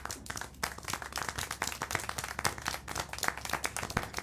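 Hand clapping in the video game Syberia: The World Before, a steady run of sharp claps repeating quickly over the full stretch, fairly close, with no talking.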